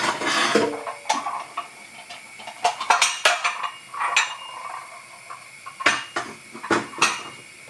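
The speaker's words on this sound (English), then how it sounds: "I'm gonna get my casserole dish out." In a home kitchen, a casserole dish and pans are handled, making a string of irregular clinks, clatters and scrapes of metal and crockery at close range, with quiet pauses between bursts.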